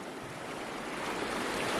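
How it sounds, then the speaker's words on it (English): A fast, deep, muddy river swollen by rain, heard as a continuous roaring rush of water, loud and broadband, with some wind buffeting on the microphone and no speech. "You can see the water is a lot faster, dirty, and it's deep."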